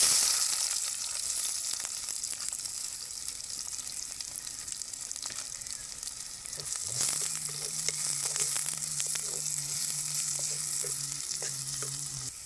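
Steady, even sizzle of onions frying in oil in a pan alongside whole spices like cinnamon, cloves and fennel, with occasional stirring scrapes and no voices.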